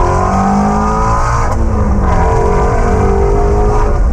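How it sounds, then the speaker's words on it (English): A Ford Mustang's V8 engine revs and roars loud and close, its pitch climbing and falling in steady sweeps with no talking over it. "that horsepower and the sound that that Mustang makes"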